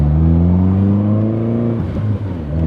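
Mazdaspeed 3 with a 2-step launch control box, engine held at high revs then flat-foot shifted with the throttle kept mashed, a loud sustained drone whose pitch dips sharply at the shift before climbing again.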